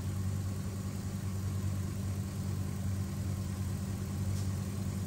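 A car engine idles during a blown head gasket sealer treatment, giving a faint, steady low hum that holds unchanged throughout. No one speaks.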